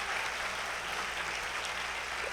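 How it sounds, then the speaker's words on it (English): An audience applauds at a musical theater show held in a church. The clapping is a dense, continuous wash at a steady level, fairly distant and soft, with no voices standing out. "let's give them a round of applause"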